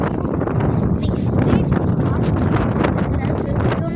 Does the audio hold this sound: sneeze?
no